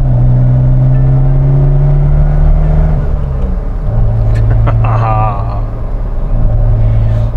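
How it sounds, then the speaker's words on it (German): A Maserati Biturbo from the 1980s drives its first meters, its engine humming steadily in a low drone with a shift in pitch midway and a brief whine, heard continuously from inside the car. "wir fahren die ersten Meter hier mit dem Biturbo"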